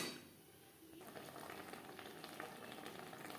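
Paneer and broccoli gravy cooking in a pan over high to medium flame, a steady close sizzle and bubbling that settles after a brief louder start, with no talk.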